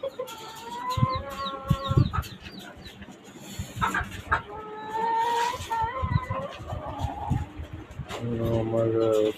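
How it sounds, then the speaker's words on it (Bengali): Caged chickens and roosters on a rooftop farm cluck repeatedly at close range, with bursts of harmonic calls across the stretch and a louder squawking run near the end, over steady background noise. "এই খাঁচার মধ্যে মুরগি পালন করছি, মোরগ মুরগি।"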